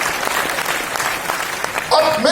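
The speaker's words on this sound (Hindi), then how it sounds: "एक जोरदार तालियां इन लोगों के लिए।" An audience at a motivational speech applauds loudly, with dense continuous clapping throughout and a voice joining near the end.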